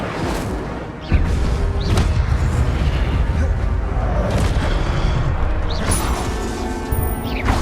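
Incendio fire spell cast in Hogwarts Legacy, loud booming bursts and crashes repeating every second or two amid a busy battle din.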